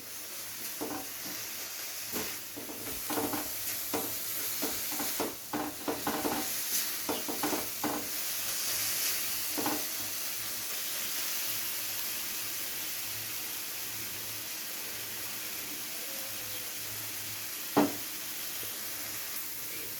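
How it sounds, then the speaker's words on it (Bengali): Tomatoes fry in an oiled pan for paneer butter masala, a constant sizzling hiss broken by a cluster of scraping stirs early on and one sharp clink of a utensil near the end. "টমেটোটাকে দেওয়ার পরে কিছুক্ষণ ভেজে নেব যতক্ষণে না টমেটোর কাঁচা গন্ধটা চলে যাচ্ছে"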